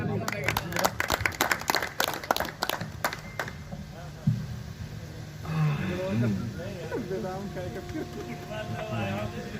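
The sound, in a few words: audience applause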